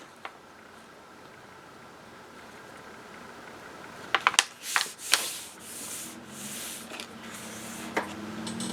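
Paper pages are folded in half for a travel journal made from an old book cover, with soft rustling and sliding, then a few crisp creasing snaps and rubbing strokes up close.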